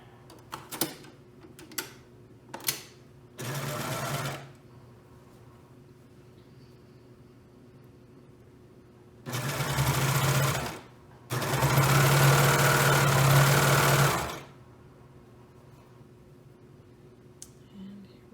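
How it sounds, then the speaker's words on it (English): A sewing machine stitching fabric for a Sawyer sew-along project runs in three bursts of steady whirring, one short and two longer, with quiet pauses and a few ticks and clicks between them. "And we will sew this on."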